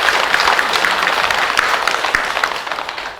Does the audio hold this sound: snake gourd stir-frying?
no